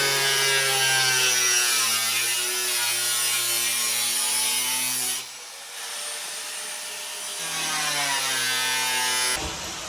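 A loud, continuous power tool grinds steadily through a panel on a 5th Gen Toyota 4Runner for a snorkel install, its pitch dipping briefly midway before resuming, then cutting off abruptly.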